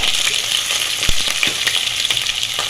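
Two medium onions sizzle steadily in hot oil in a pan, a loud, continuous frying hiss close up with occasional soft stirring clicks, no voices.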